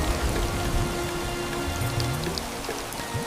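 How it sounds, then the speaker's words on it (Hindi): Steady heavy rain pouring down, a dense wash of noise with scattered drops and a low rumble underneath, no voices. "बाहर तूफान भयंकर हो चुका था।"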